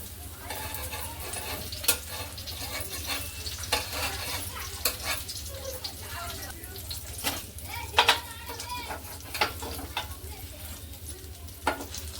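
Bombay duck (bombil) fish frying in a pan, a continuous near sizzle punctuated by sharp clicks and taps of a utensil against the pan.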